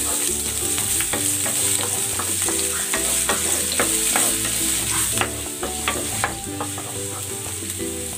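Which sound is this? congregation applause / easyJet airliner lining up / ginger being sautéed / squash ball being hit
ginger being sautéed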